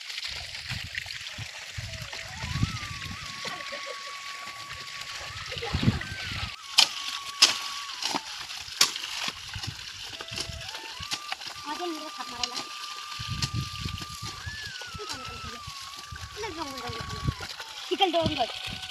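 Water flowing into a muddy paddy field being prepared for rice planting splashes and sloshes steadily across the whole stretch, with scattered sharper splats and faint voices of animals or people in the background.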